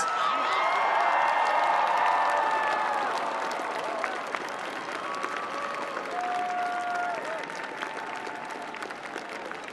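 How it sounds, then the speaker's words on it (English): Graduates at a spring commencement ceremony applaud their families and friends: a large crowd's sustained, dense applause fills the space evenly, with scattered cheers and whoops rising above it. "applaud your families and friends for their love and encouragement over the years"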